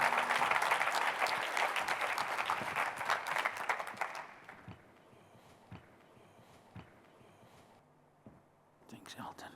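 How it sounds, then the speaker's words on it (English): A business breakfast audience gives a dense, full round of applause to welcome a speaker to the stage. It holds loud for about four seconds, then thins and fades into scattered claps and quiet room noise. "Give him a round of applause and a business breakfast welcome"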